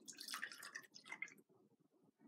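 Water poured between small quarter-cup measuring cups as a fraction model, giving a brief close trickle and splash that fades into light drips and small liquid sounds.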